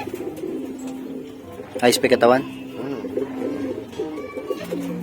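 A racing pigeon coos in low, throaty bursts close by, with a brief flurry of sharper bird calls, while someone talks over it.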